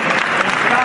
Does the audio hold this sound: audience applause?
yes